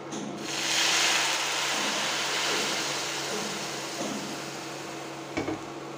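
Spices tipped into onions frying in mustard oil in a pan: a loud, steady hissing sizzle swells at first, then holds, with a brief utensil clatter toward the end and no talking.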